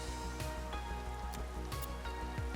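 Steady rain during a Pro GT car race in the video game GRID Legends, a continuous patter of drops beneath a low engine drone with occasional louder splashes.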